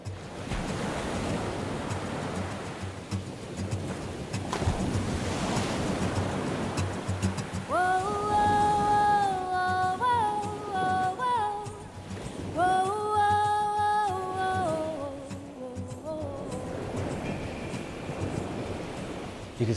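Ocean surf rolls and breaks along a beach in a continuous loud wash with wind noise buffeting the microphone, while a melodic tone plays over parts of it.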